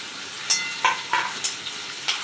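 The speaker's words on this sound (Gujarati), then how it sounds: "તેલમાં એડ કરી થોડી હળદર, ત્યાર પછી ડુંગળી, કેપ્સિકમ, મરચાં" Turmeric, onion, capsicum and chillies sizzling in hot oil for pasta, a steady close hiss broken by about six short scraping stirs at a fairly even pace.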